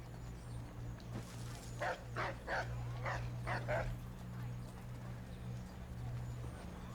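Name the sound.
dogs barking in Assassin's Creed III video game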